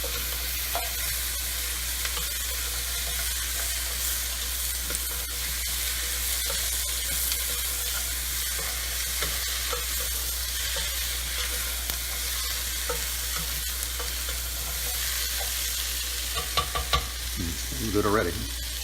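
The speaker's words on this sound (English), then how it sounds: "Saute them for a couple of minutes until they're starting to soften." Vegetables sauteing in a pan for Manhattan clam chowder give a steady, even sizzle throughout, with a few soft stirring scrapes near the end and no talking.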